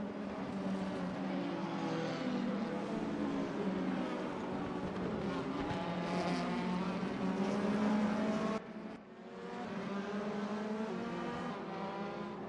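A Mercedes AMG C63 race car chases an Audi RS5 in RaceRoom, engines droning and revving in a steady, loud roar with rising and falling pitch, briefly dipping before surging again.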